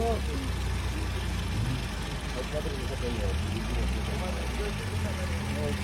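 A car engine idling with a steady low rumble at a used car market in Georgia, fairly quiet, with faint voices in the background.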